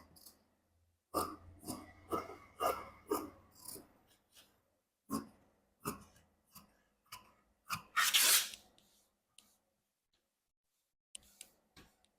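Scissors cut blouse fabric close up, with a run of rhythmic snips followed by scattered single cuts and a brief rustle of cloth, between short silences.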